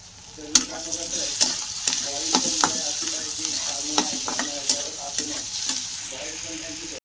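Ground green chili and garlic frying in a pan, a steady sizzle punctuated by sharp clicks and scrapes as the spoon stirs through the paste, with no talking.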